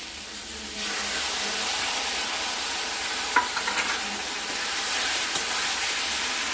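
Spice paste stirred into tomatoes frying in a pan for katla fish curry: a steady broad sizzle with soft scraping stirs and a few small pops, close and alone.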